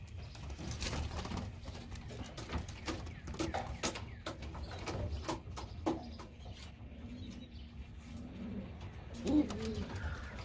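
Young pigeons coo repeatedly outdoors on a warm day, soft, low calls recurring over a constant background hum with some faint chirps.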